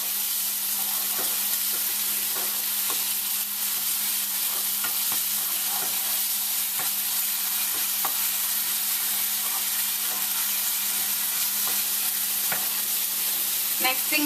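Ginger and garlic paste frying in a pan with browned onions, a steady continuous sizzle with occasional soft stirring clicks throughout, no voices.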